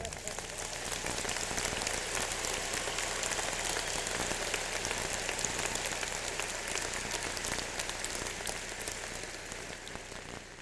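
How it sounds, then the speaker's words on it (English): Sustained audience applause at a Portland State University graduation ceremony in 1997, a dense, steady wash of clapping from a large crowd that runs without pause from start to finish. "Yes, applaud."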